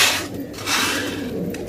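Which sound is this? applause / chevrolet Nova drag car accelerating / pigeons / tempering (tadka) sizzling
pigeons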